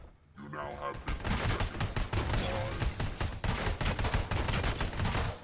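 Rapid gunfire in the Robocop Rogue City video game, a dense stream of shots that starts abruptly and continues loudly with someone talking over it.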